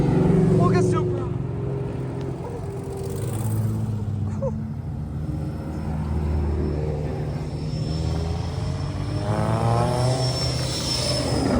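A Toyota Supra's engine revs and roars past on a busy strip, rising and falling in pitch as it sweeps by, with people talking and exclaiming over the exhaust noise.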